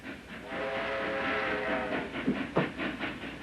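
A train horn sounds, then the rumble and rhythmic clatter of rail cars rolling past, fairly loud and close.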